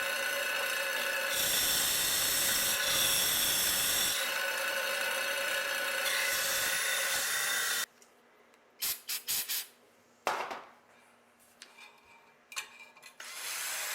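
A steady, loud abrasive whirring hiss of a wire wheel stripping black paint from the metal of a 1950s Daisy Model 25 air rifle for several seconds, then it stops, followed by scattered clicks and short scraping bursts.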